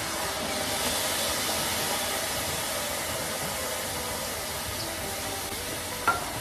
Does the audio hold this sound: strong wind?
no